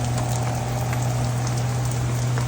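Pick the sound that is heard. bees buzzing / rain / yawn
rain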